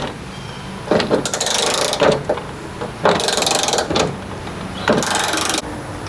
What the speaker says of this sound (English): You just don't want to ever go too tight with that automatic ratchet.